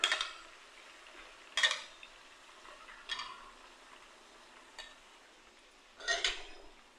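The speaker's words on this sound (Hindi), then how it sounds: "इसको मैं लाल कर लूँगी, अच्छे से भून लूँगी।" Garlic and ginger frying in a pan for chicken Sindhi biryani, with a soft steady sizzle and occasional clinks and scrapes of a spoon stirring against the metal, fairly quiet and with no talking.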